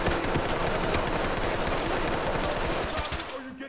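Dense, continuous automatic gunfire in the tactical shooter Ready or Not, loud and close, rattling steadily for several seconds before cutting off.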